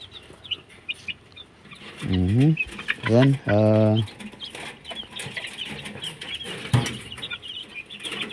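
A few loud, rhythmic clucks from a chicken stand out over a quiet background, with faint rustling and scattered bird calls around them.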